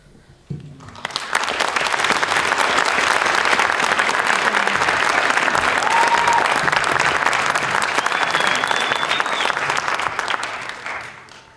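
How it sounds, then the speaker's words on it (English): A large audience at an awards show breaks into loud, sustained applause that swells quickly, holds for about ten seconds and then begins to fade. "So this has been a night to celebrate, to give people that applause."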